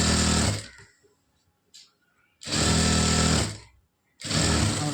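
Sewing machine stitching lining cloth onto a blouse border, running in three loud, steady bursts separated by quiet pauses with faint handling sounds.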